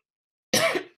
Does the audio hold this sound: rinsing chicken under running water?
no